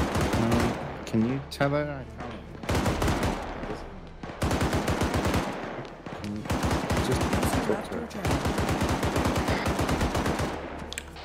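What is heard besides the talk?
gunfire in the video game ARMA 3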